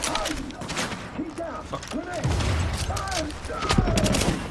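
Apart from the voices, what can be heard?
shotgun fire in The Division video game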